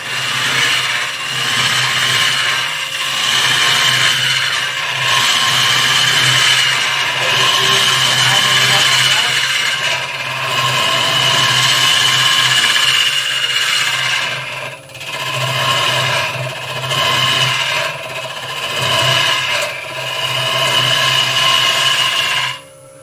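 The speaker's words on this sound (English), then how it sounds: "I'm feeding the gouge round on the inside there" A gouge fed around the inside of a wooden piece on a power carving or turning tool gives a steady rasping grind with rhythmic surges and brief dips, close and loud throughout.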